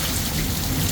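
Heavy rain pours steadily during a thunderstorm with lightning, a dense, loud, unbroken roar of drops hitting surfaces close by.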